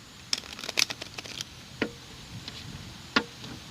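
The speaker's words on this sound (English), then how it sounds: "Last shuffle." A tarot deck is riffled and tapped in a quick burst of crisp card flicks, followed by a few isolated snaps, close and fairly quiet with no talk during the shuffle.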